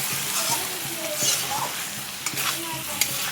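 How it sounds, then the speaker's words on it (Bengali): Potatoes fry in a pan with tomato, ginger and cumin paste, sending out a continuous sizzle while the mixture is stirred and a spoon gives occasional soft clinks. "দিয়ে টমেটো আদা জিরে বাটা দিয়ে আলুটা একটু কষাচ্ছি"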